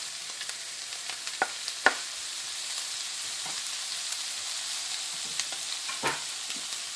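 Tomatoes sizzle in a hot frying pan for migas, a steady close frying hiss with a few sharp crackles and a stirring scrape near the middle and end; no voices.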